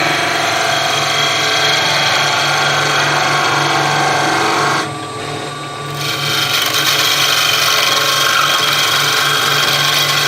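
Skew chisel planing spinning wood on a lathe, a loud continuous scraping hiss with the motor hum beneath, easing briefly as the tool lifts off before cutting resumes; no talk.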